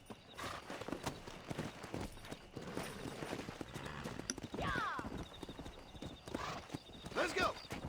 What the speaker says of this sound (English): Our first race of horses